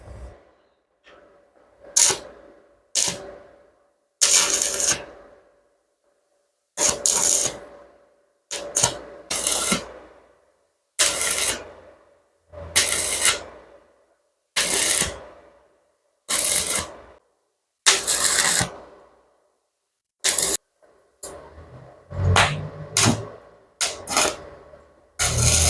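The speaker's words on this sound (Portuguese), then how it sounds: "Ó, fiz um pouquinho de solda aqui, ponteando." Stick electrode arc welding while tacking a workpiece: repeated short bursts of crackling, sizzling arc, each lasting a second or so and separated by brief silences, loud and close.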